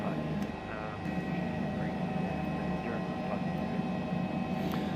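An Airbus H135 helicopter in Microsoft Flight Simulator gives a steady, droning turbine hum with a faint whine throughout as it begins a hover taxi, with muffled voices underneath.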